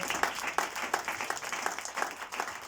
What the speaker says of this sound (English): Somebody clap your hands for Jesus.